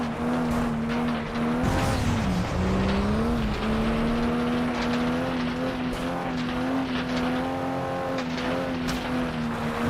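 A racing car engine in the video game FlatOut 2 drones loudly and steadily, its pitch dipping briefly as the car brakes into a turn before climbing again, with occasional tire squeal and impacts.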